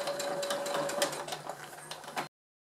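A domestic sewing machine runs in a steady whirring burst as it stitches to the end of a seam at the bottom of a vanity case, then stops abruptly.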